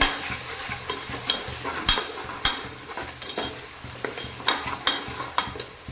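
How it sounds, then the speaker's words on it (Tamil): Ginger, garlic and cinnamon-clove spice sautéing in a pan for vegetable biryani, with a soft sizzle under repeated sharp scrapes and clinks of a spoon stirring against the pan, close up and without speech. "இது ஒரு ரெண்டு நிமிஷம் வதங்கினா போதும்"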